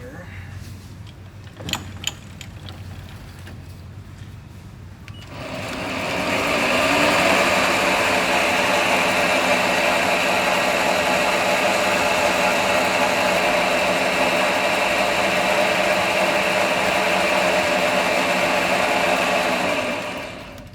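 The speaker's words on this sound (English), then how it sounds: "Get in there with the lathe and machine it out." A lathe spins up after a couple of clicks and runs with a steady loud whirring drone for about fifteen seconds while machining out a Walther Reign UXT rifle moderator, then winds down.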